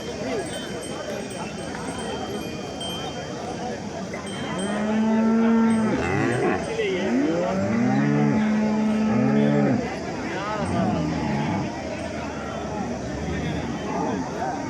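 Several HF and Jersey cows moo in long, low drawn-out calls close by, one after another, over steady outdoor background noise at a cattle market in Punganur.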